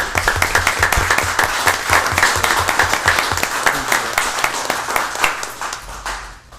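An audience at a city commission meeting applauds steadily, many hands clapping together in a dense, sustained burst that fades slightly toward the end.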